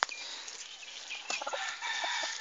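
Gold mother hen with her chicks on a farm, a few soft clucks and thin high peeping chirps close by, brief and quiet with no talking.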